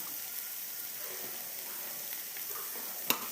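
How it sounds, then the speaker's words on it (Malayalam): Ginger and garlic paste fry in a pan for an Assamese fish curry, giving a soft, steady sizzle with one sharp clink near the end. "ഇനി നമുക്ക് ഇഞ്ചിയുടെ പേസ്റ്റും വെളുത്തുള്ളിയുടെ പേസ്റ്റും ഇതിനകത്ത് ഇട്ട് കൊടുക്കാം"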